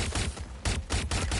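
Gunfire in Watch Dogs: Legion: loud broadband bursts of incoming fire in several quick volleys, close and continuous, with no speech.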